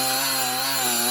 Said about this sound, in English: it's just one of the Milwaukee cordless die grinders